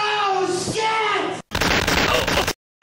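Gunfire bursts from Halo played in Garry's Mod, with sharp noisy blasts after a tonal stretch, ending in a brief silence and another hit.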